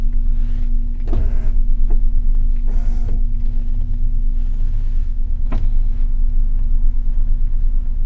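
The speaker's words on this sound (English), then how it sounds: "And the car has power windows." Power windows on a 1964 Crown Imperial car run with a steady electric motor whine and a low hum throughout, with a few faint creaks and clicks as the glass moves.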